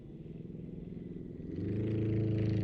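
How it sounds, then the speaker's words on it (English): A pale blue aircraft at an air display gives off a steady engine drone that swells noticeably louder and fuller partway through, with no voices. "the pale blue machine is being flown by Richard Meredith"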